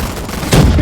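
AK rifle fire from a shooting video game comes as a short, loud burst of rapid shots that erupts abruptly partway through.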